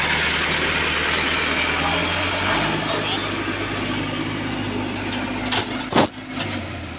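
A tractor engine runs at a steady low idle from nearby, its drone continuing throughout with a few brief clanks near the end. Voices can be heard faintly alongside it.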